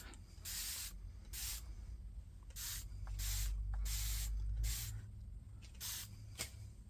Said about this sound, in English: you need to spray a lot of water so it'll start dripping